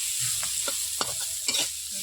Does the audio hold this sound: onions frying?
yes